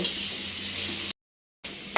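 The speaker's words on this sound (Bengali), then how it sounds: "চার থেকে পাঁচটা পেঁয়াজ নিয়েছি হ্যাঁ কাঁচামরিচ চার চার পাঁচটা নিয়েছি এখন সুন্দরভাবে নাড়াচাড়া করবো" Sliced onions and green chillies frying in a pan while being stirred, a steady bright sizzle broken by a short silent gap, then resuming.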